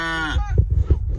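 A single close, loud cow moo from a farm animal being coaxed with treats. The moo is one drawn-out bellow that breaks into low grunting rumbles toward the end.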